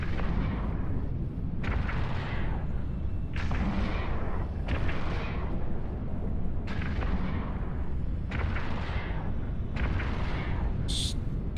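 Spaceship weapons in EVE Online fire in a series of loud booming blasts, about seven heavy shots at uneven intervals with a steady background rumble.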